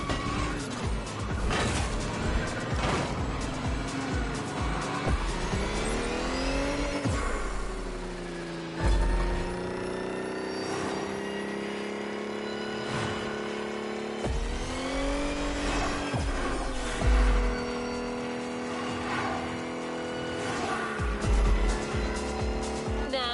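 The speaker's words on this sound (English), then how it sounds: "The 1999 Lamborghini Diablo GT." A 1999 Lamborghini Diablo GT in the racing game Crew Motorfest: the engine revs and climbs through repeated gear changes, with bursts of tire squeal, loud and continuous throughout.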